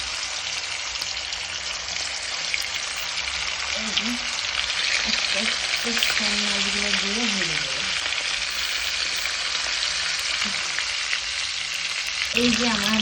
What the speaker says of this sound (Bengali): তেল গরম হয়ে গেছে কড়াইতে আগে আমি মাছগুলো দিয়ে ভেজে নেবো